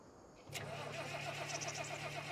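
Game tractor with a cab starting up: a sharp crank catches at about half a second, then the engine settles into a steady, close idle hum with a faint rhythmic ticking on top.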